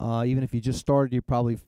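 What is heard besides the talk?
No everyday noises stand out.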